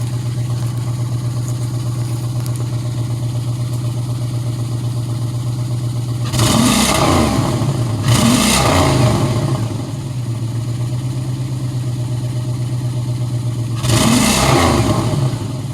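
A 2006 Pontiac Grand Prix with a freshly welded exhaust and a misfire idles with a steady low drone, then rises in three short revving bursts, two close together and one later, each falling back to the uneven idle.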